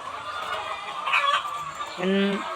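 Hens in battery cages, four to a cage, clucking and squawking close by in a noisy enclosure, a few short calls rising over a busy background.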